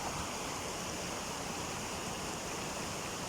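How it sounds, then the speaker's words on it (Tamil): Water rushing steadily out of the outlet of Thusoor lake, a loud, constant broadband roar with no breaks. "பாருங்கள் எப்படி தண்ணி போயிட்டுருக்குதுங்க ஃப்ரெண்ட்ஸ்."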